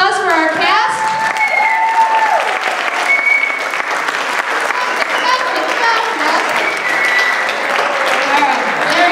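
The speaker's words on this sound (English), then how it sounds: "let's give a round of applause for our cast" An audience at a middle school one-act play applauds the cast, loud sustained clapping mixed with cheers, whoops and overlapping voices that carries on for about nine seconds.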